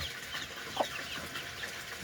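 Domestic chickens and roosters in a small backyard coop with newly hatched chicks, giving faint, scattered clucks over a low outdoor background, with one slightly louder call near the middle.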